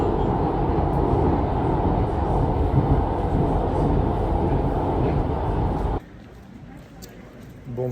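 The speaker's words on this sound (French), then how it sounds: "Allez, retour en métro jusqu'à l'hôtel." A metro train ride in Cologne, a steady loud rumble and rattle of the carriage running along the track, then a sudden drop to quieter cabin noise as it slows, with voices faintly underneath.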